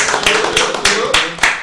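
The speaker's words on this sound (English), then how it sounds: "let's give a round of applause" Close-up clapping from a small group, steady and brisk for a couple of seconds with no voices.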